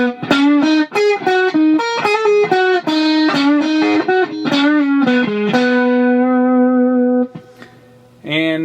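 Distorted electric guitar plays a slow blues solo phrase at full speed, quick bent and picked notes that settle into a long sustained tone before fading, loud and close with no talk.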